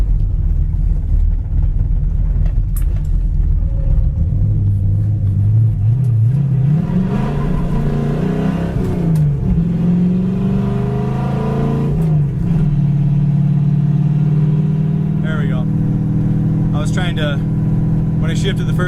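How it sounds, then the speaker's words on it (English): A 1966 Ford Fairlane 500 XL engine runs loud and close while driving, a steady low rumble that rises and falls through gear changes, with someone talking over it. "Car runs and drives fantastic."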